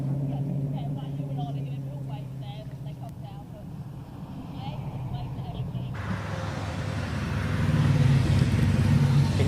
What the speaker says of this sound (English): So cars and bikes, in fact, coming back down the hill.